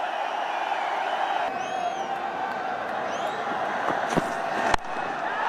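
Cricket stadium crowd keeps up a steady, dense roar of cheering, with whistles and a sharp clap or thud cutting through near the end.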